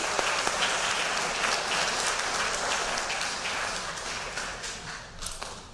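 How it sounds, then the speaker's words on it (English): A banquet audience gives a sustained round of applause for a scholar athlete wrestling team, with dense, close clapping that holds steady before slowly tapering off. "Let's give a round of applause."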